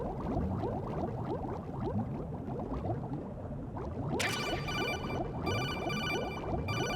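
A telephone rings in Metal Gear Solid 2: Sons of Liberty, with bright repeated trilling bursts breaking in over a dense, bubbling background of game noise partway through.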